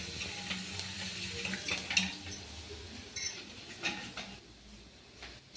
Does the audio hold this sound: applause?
no